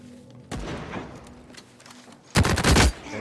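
Gunfire in The Cycle: Frontier during a PvP fight: an early crack and scattered shots, then a loud, rapid close burst of automatic fire near the end.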